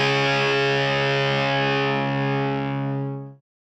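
A distorted electric guitar chord, dialed toward a classic rock tone through a Line 6 Firehawk FX, rings out with a swirling phaser sweep, sustaining loud and close for about three seconds before cutting off sharply.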